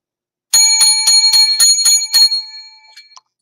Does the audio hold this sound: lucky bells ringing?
yes